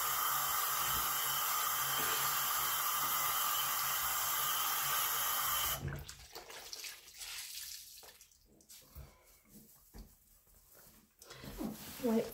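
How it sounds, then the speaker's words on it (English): Tap water running steadily as a soapy kitchen counter is rinsed, a loud continuous rush that cuts off about halfway, followed by quieter wiping and handling sounds with a brief clatter near the end. "This time I have a bit of soap on it, so I'm going to rinse it before I wipe down the"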